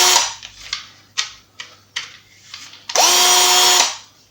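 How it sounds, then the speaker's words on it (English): A single-speed cordless drill driver, used while temporarily fitting kitchen cabinet doors, gives several short whirring bursts and then one steady, loud run of about a second before stopping. "It only has one speed this, it has a torque setting and a drill."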